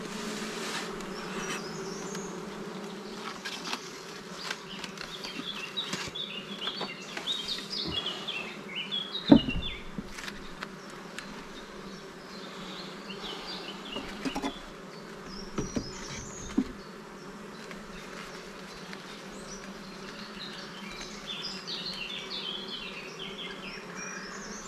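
Honeybees buzz steadily around a small nucleus hive during a honey flow, a dense insect drone with a few sharper knocks and thumps as the box is moved.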